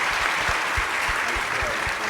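Steady audience applause for a panel at a reef conference plenary, a dense even wash of clapping from a full room with a few nearer claps standing out.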